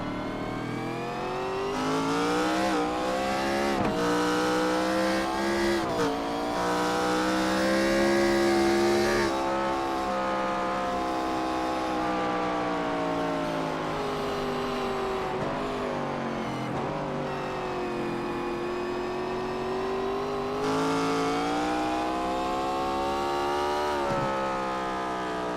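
Race cars lap Sonoma Raceway, braking into turn 10 and accelerating out. The loud, continuous engine drone rises and falls in pitch as the drivers brake, downshift and get back on the throttle, with no voices.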